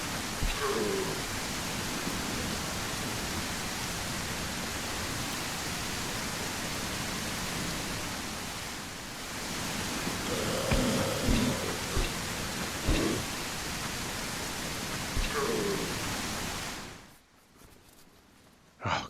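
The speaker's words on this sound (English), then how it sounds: "Gosh, that rain is loud." Loud, steady rain pours through a zombie survival game set at a tropical hotel, a dense wash of hiss with a few brief knocks and thuds, then it cuts off sharply near the end.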